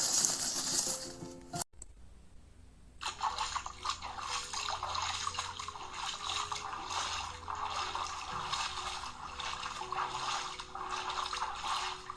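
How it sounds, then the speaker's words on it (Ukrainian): Splashing in a rain puddle for an autumn sound-guessing game, a steady stream of wet slaps and drips that continues close by without any voices. "Хлюпотіння калюжі."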